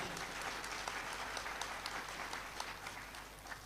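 Thin, faint applause from an audience at a spiritual discourse: a steady wash of scattered clapping with a few sharper claps, kept low throughout.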